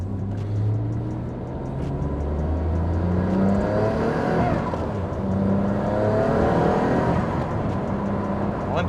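A Noble M400 sports car accelerates hard under turbo boost, its engine note rising and surging as it climbs through the revs, loud and close with a gear change midway.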